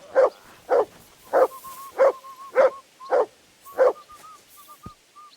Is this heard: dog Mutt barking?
yes